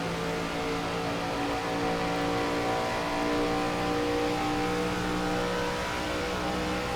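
ARCA race car engines drone at high revs in the iRacing game at Michigan, a loud steady multi-car roar that holds constant pitch without a break and has no talk over it.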